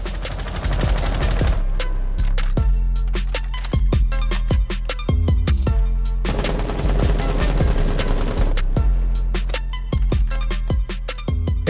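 Rapid automatic gunfire from Rainbow Six Siege, a shooter video game, rattles in loud, dense bursts of sharp shots separated by brief pauses, with no talk.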